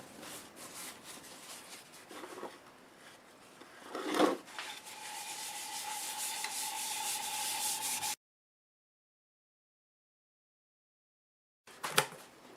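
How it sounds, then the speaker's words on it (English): Abrasive paste rubbed onto a catalpa wood bowl spinning on a lathe, a steady dry scratchy rubbing with a faint tonal whine and a sharp tap midway, cutting off to silence before a brief return. "So I'm going to use the Acks abrasive paste, and it will bring it right back up to a really smooth finish"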